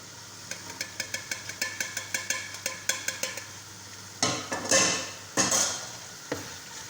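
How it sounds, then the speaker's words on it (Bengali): Beef liver, tripe and vegetables stir-fried in a pan, with rapid rhythmic scraping strokes of a utensil over steady sizzling, then a few louder bursts of hot frying hiss near the end. "কলজাগুলো দিয়ে ভালো করে কষাইতেছি"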